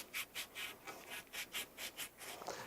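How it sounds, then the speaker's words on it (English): A grip area scuffed with heavy grit sandpaper in about ten even back-and-forth strokes, each a soft rasping rub, close and fairly quiet with no talk. "I like to rough up where the product's going to be glued and just take a heavy grit sandpaper"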